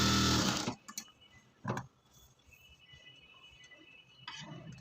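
A sewing machine double stitching a blouse seam gives a loud whirring run at the start, then short bursts of stitching and faint clicks against a quiet room.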